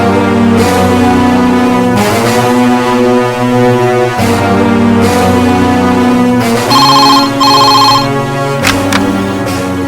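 Telephone ringing loudly and close by, a sustained tonal electronic ringtone repeating in bursts over about ten seconds, alone with no talking.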